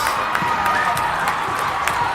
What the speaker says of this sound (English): Warriors parents excited to clap